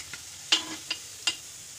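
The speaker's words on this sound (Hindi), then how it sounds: "अब ये देखिए सारी पकौड़ियां हमारी तल करके तैयार हो गई हैं" Pakoras fry in hot oil for a spiced kadhi, a soft, low sizzle broken by a few sharp clicks of a utensil against the pan.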